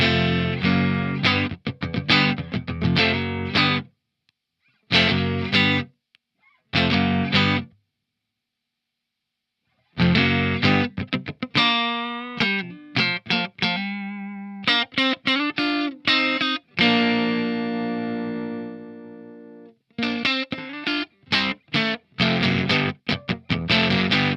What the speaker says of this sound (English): So it's a real thick, broken speaker sound.